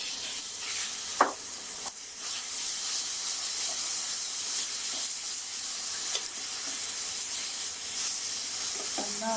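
Minced meat (keema) frying in a pan gives a constant loud sizzle and hiss, with a few sharp knocks and scrapes of stirring, close up, no talking.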